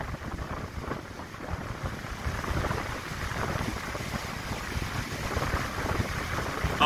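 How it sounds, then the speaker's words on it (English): Big ocean waves on the shore at Cattlewash, Barbados rumble and wash continuously while wind buffets the microphone, a rough, steady roar of waves breaking nearby. "You can see the wave action here. Big waves."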